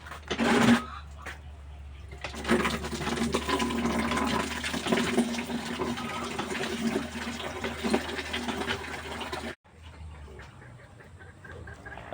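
Water pours into a drum in a steady rushing stream, a brief knock at the start and an abrupt drop near the end as the flow changes, with faint background sounds and no talk.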